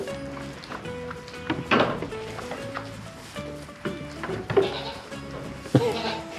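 Baby goats in sweaters bleating at a farm, several overlapping calls near and far over about six seconds, mixed with thumps and a person talking quietly in the background.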